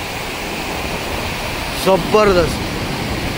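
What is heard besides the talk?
Randha waterfall in flood at Bhandardara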